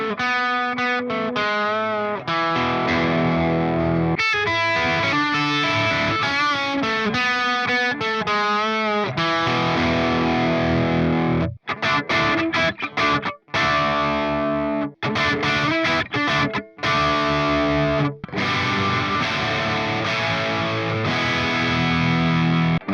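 Distorted electric guitar run through a Friedman IR-X tube preamp using channel switching and boost, playing dense chords and riffs with sharp stops and short gaps, loud and continuous with no talking.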